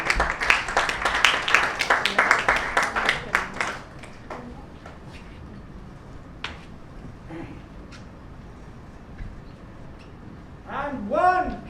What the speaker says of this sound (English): We'll all join in with a huge round of applause